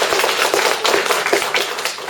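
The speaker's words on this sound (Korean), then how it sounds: "다시 한번 공부담 나눠주신 황영지 교도님께 큰 박수 보내드리겠습니다" Big round of applause from a seated audience at a Won Buddhist lecture gathering, a dense, steady patter of many hands clapping at close range, with no speech over it.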